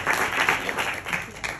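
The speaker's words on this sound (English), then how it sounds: "We can give a big round of applause to her also" Audience applause following a speech at a healthcare professionals' council event, a short burst of steady clapping filling the room at moderate volume.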